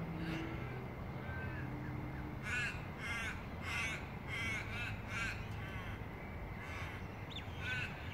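Several crows caw in short repeated bursts, moderately distant over a steady outdoor background hum.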